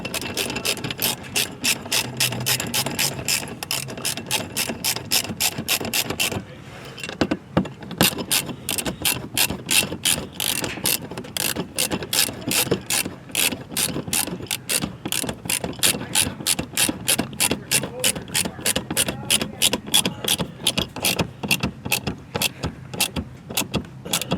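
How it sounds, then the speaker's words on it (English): Rapid, regular ratcheting clicks from a Torx T15 driver tightening screws on a Camaro ZL1, close and crisp, running in long steady bursts with a brief pause early on. "tighten her up using the Torx T15, the same size that you used to take the original screws out"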